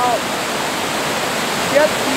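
Steady, loud rushing of Mary Vine Falls on Vancouver Island, a waterfall over wet shiny rocks with upper and lower cascades, a constant broadband roar with a faint bird chirp at start and end.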